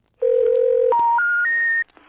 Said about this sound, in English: I dialed the number, but no ringing came through.